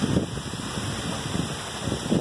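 Gusty storm wind buffets the microphone in low rumbling surges, loudest at the start and end, with no talking.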